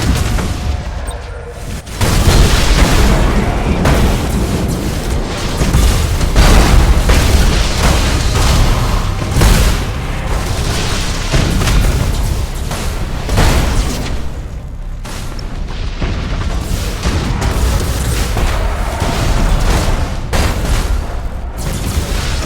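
Heavy starship main batteries of the Imperium of Mankind fleet pound away in the space strategy game Battlefleet Gothic Armada 2, a loud, continuous wall of booming blasts and rumbling explosions lasting over twenty seconds.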